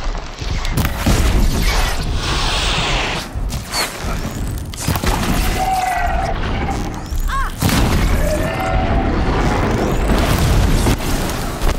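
A machine explodes in the video game Horizon Zero Dawn, giving a loud, booming blast with rumbling thuds and bursts that carry through the whole stretch amid dense game noise.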